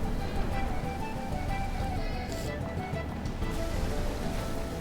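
Water in the video game Chrono Cross, a dense, continuous wash of surf-like rushing noise, loud and steady throughout without a break.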